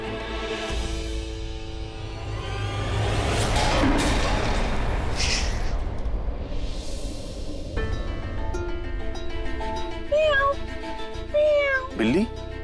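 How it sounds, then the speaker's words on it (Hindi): A cat meows several times late in the clip, sharp rising and falling cries cutting through dramatic music and a noisy, swelling background in a house. "बिल्ली कहां से आ गई इस घर में?"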